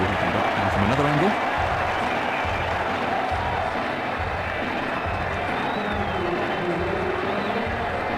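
Stadium crowd in Ashes Cricket 2009, Mumbai Indians vs Chennai Super Kings, as a batsman walks off: continuous clapping and crowd murmur at an even level, with a commentator talking over it.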